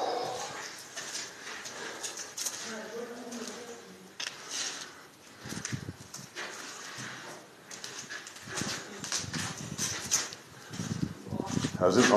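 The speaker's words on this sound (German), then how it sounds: "deshalb bellt der ja auch da hinten immer, der Hund" Dog barking in the distance at an abandoned railway roundhouse, faint intermittent barks heard under people talking nearby.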